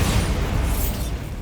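A Bombarda spell explosion goes off in the Hogwarts Legacy video game, a brief, dense, loud booming roar that fills the whole moment.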